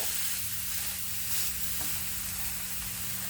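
Instant dosa on a hot pan being flipped over to cook the other side: steady, close sizzling and hiss of frying batter, with a brief scrape as it turns, with no talking.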